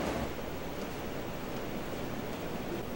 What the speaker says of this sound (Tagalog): ang hindi nagbabago, Mike, ay ang malalakas na alon gaya nitong nakikita ninyo sa aking likuran